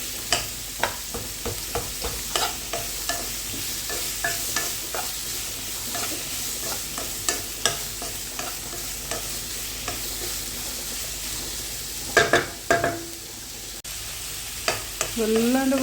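Chopped green chillies and curry leaves sautéing in a pan, a steady sizzle broken by repeated close stirring scrapes and clinks, with a few louder knocks near the end and no talking.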